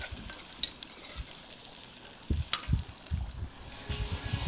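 Sliced onions and spices frying in oil for vegetable biryani, stirred in the pan: a soft, steady sizzle broken by scraping spoon strokes, close but quiet, without speech.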